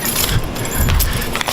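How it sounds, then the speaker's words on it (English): A huge ring of metal keys jangling and clinking up close, a quick, busy burst of rattling. "Huge ring of keys."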